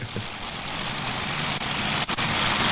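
A five-engine tractor-pulling tractor idles at a 1988 indoor super pull event, its engines producing a loud, steady, heavy rumble with a couple of brief dips, and no voices over it.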